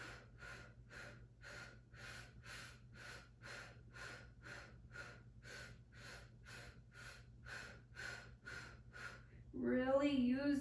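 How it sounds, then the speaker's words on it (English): During a core pulse exercise on a mat, a person breathes in about fifteen evenly spaced audible breaths close to the mic, a soft hum underneath, followed by a voice at the end. "really just keep breathing"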